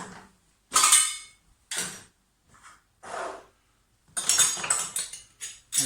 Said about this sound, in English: the basket we put in all our cutlery, okay? So knives, forks, teaspoons, dessert spoons.